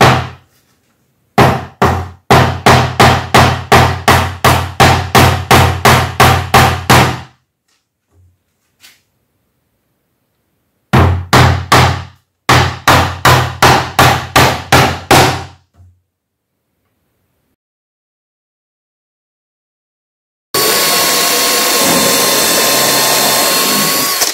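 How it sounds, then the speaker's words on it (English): Nails are hammered into wood in long runs of sharp, evenly spaced blows, loud and close, with pauses between sets, and a burst of broadband noise follows at the end. "we're going to flip it over and hammer the nails in from the other side"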